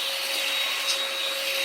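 An Inse cordless vacuum cleaner running on a floor, a loud, continuous motor whine with steady high pitched tones and airy rush, unbroken throughout and without talk.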